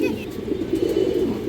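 A big-sized pair of pure Muslodom pigeons coo close by in a low, throaty, continuous burble, with a voice faintly mixed in.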